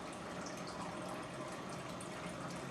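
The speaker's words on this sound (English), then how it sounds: "filling it with distilled water" Distilled water pours steadily into the reservoir of a PicoBrew brewing machine, a constant, faint rushing and splashing with no pauses and no voices.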